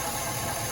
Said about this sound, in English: They're just sitting there clicking, and they're collapsed in the cylinder wall